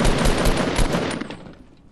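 Loud rapid burst of assault rifle fire in a Fortnite match, a dense run of shots filling the first second and a half before trailing off.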